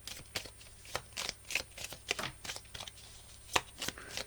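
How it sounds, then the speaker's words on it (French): Tarot or oracle cards are shuffled and drawn from a deck, giving quiet, rapid riffles and soft papery snaps in irregular bursts, close and faint. "je vais vous prendre une dernière petite carte, ou deux"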